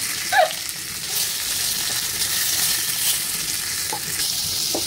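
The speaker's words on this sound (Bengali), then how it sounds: "এটা হচ্ছে পূজার মাছ ভেজে দিচ্ছে।" Pieces of rohu fish fry in hot oil in a pan with a steady, moderately loud sizzle, joined by occasional soft stirring scrapes and a brief clink, with no voices.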